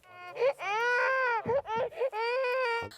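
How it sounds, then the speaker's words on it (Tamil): A recording of a baby crying played through a headset, loud sustained wails broken by short gasping catches, close and dominant throughout. "இந்த மாதிரி குழந்தை அழுகிற சத்தம் இந்த ஹெட்செட்ல அவங்களுக்கு இப்ப கேட்க போகுது."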